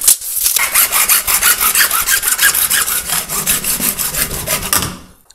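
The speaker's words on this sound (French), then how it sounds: "je vais couper des tiges filetées que je viendrai mettre dans les trous avec des écrous" Threaded rod being cut with a hand saw for a custom turbo install on a Seicento Abarth 1.1, a steady run of about twenty quick, rhythmic rasping strokes, loud and close, with no talk.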